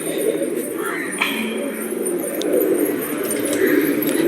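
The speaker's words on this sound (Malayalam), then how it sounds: "അപ്പോൾ നമ്മളെ പ്രാവുകളെന്ന് പറയുന്നത് ഇത്രയുണ്ട് നമ്മളെ പ്രാവുകൾ." Pigeons in a loft cooing, a steady low rumbling chorus of overlapping coos from many birds close by, with a few faint chirps mixed in.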